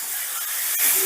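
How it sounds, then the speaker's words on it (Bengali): Potatoes and green peas frying with spices in a pan give a steady, close hiss and sizzle, swelling into a slightly louder burst near the end. "এবারে আলু আর মটরশুঁটিটা মশলার সাথে ধরো এই 2 মিনিটের মতন কষে নেব।"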